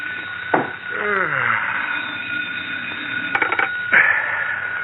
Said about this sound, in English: Sheriff Johnson yawns and reaches for the ringing telephone on his desk